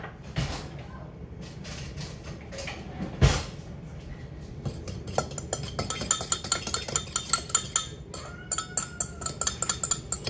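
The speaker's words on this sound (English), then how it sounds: "So we'll put the yeast and the sugar in and stir it up." Yeast and sugar stirred in a bowl, with a spoon clinking and scraping against the sides in a quick, irregular rhythm at close range and one sharp knock near the start.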